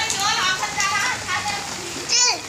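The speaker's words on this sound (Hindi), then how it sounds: "आज हमारे यहाँ बहुत बारिश हो रही है" Steady rain falls outdoors in a continuous hiss while children talk and call out over it.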